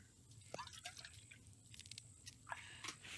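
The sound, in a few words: grabbing water in The Infected video game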